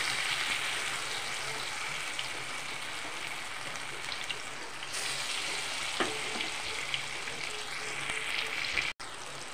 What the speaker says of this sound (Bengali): এখন আমি বড়া করে ভেজে নেব।